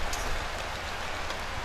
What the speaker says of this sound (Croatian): Tu je kiša